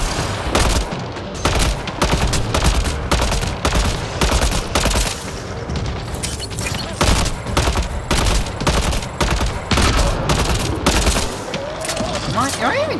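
Rapid sci-fi gunfire from a firefight in Mass Effect Andromeda on Havarl, loud close bursts of automatic shots in dense volleys, continuous throughout with brief gaps, with some talk mixed in.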